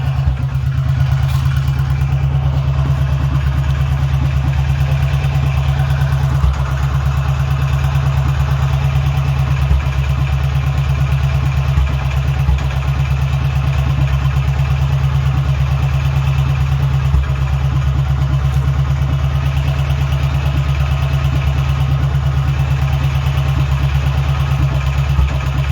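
A Royal Enfield Bullet motorcycle engine idling steadily and loudly close by, a continuous low thumping drone with no talking throughout.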